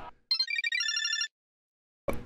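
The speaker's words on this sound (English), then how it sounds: "This is her ringtone." Mobile phone ringtone playing a bright, repeating electronic melody for about a second, fairly near and alone, with brief noises just before and after.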